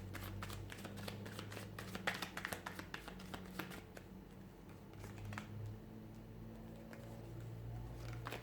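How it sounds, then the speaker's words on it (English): Tarot cards are shuffled by hand, a run of soft riffling flicks and taps, close and fairly quiet, with a low steady hum underneath. "give the cards a shuffle"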